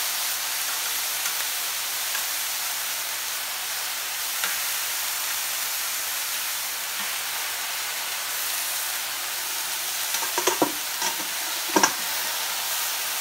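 Marinated rabbit pieces cooking gently on a plancha, a constant broad hiss of searing that runs evenly throughout, with a few faint taps and clicks toward the end and no talking.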